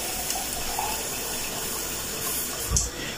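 Water runs from a kitchen tap during meat cooking, a continuous close rushing stream with a brief splashing surge near the end and no talk.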